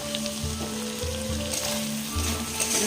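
Chicken curry with curry masala sizzles and fries loudly in a pan as the lid comes off, a close, crackling hiss with a low hum and faint clinks underneath.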